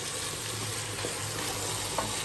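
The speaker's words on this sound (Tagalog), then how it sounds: "Sinalagay ko na yung hotdog para masama siya sa gisa." Sliced hotdog sautés in a pan, giving a steady, close frying sizzle throughout with a faint utensil clink near the end.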